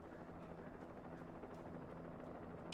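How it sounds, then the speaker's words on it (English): A Blackhawk helicopter in the video game Alan Wake gives a faint, steady rotor drone with soft rhythmic chopping, distant and low in level throughout. "Oh, and they have a helicopter."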